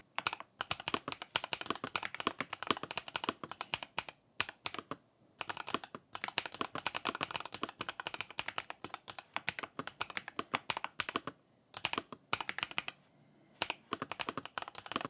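Fast, continuous typing on an RK Royal Kludge S98 mechanical keyboard with lubricated linear switches, with dense, smooth, muted clacks and a few brief pauses between bursts.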